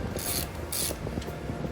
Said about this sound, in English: Let me get these bolts out.